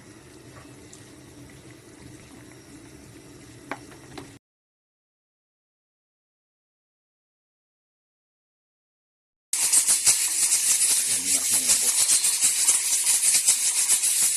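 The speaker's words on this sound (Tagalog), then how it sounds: "kumukulo na po" Native chicken tinola soup bubbles and churns in a pot, a quiet stretch first, then a cut to louder, steady boiling with hissing froth.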